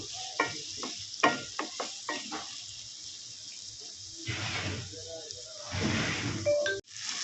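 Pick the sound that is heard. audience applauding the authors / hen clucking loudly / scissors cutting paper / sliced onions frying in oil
sliced onions frying in oil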